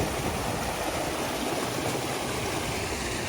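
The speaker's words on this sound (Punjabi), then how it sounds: "ਦੋਏ ਮੋਟਰਾਂ ਚੱਲਦੀਆਂ ਨੇ ਤੇ ਟੋਟਾ ਪਾਇਆ ਟੋਟਾ ਪਾ ਕੇ ਦੋਹਾਂ ਦਾ ਪਾਣੀ ਆਪਸ ਵਿੱਚ ਭਿੜਨ ਲੱਗ ਗਿਆ" Water from two irrigation pump motors merging in a channel beside a paddy field, a steady close rushing flow with no break and no voices.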